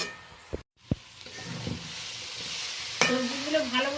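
Vegetables sauté in a pan as a curry is cooked down and starts catching on the bottom. A soft, steady sizzle is broken by a few sharp stirring clicks and scrapes. A brief voice is heard near the end.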